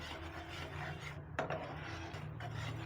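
Milk and jaggery stirred in a pan over medium heat, giving a steady rasping scrape of a spoon against the pan that continues with little break.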